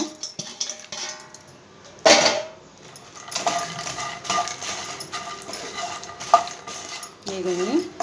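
A spoon scrapes and clinks against a pan while fried ingredients are tossed together for spicy phool makhana chaat, with a soft sizzle beneath and scattered louder knocks of utensil on metal.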